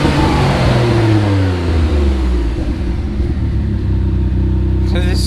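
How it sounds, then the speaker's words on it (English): A tuned twin-turbo Mitsubishi 3000GT engine with performance cams revs hard, pitch sweeping up and dropping in quick succession, loud and close, then settling to a rough choppy idle. "This car sounds sick with those cams"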